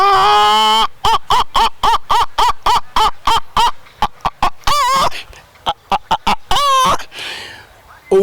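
A man imitates a hen courting a rooster, giving a long opening squawk and then a rapid, rhythmic run of loud clucks, broken by a few stretched cackling calls and some breathy gaps.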